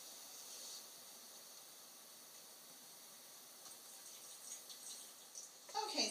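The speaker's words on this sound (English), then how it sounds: "Pour my 8 cups of water in." Eight cups of water poured into the reservoir of a drip coffee maker for brewing Choffy, a steady, soft, hissing trickle that runs throughout at low level, with a few louder splashes and clatters toward the end and no talking.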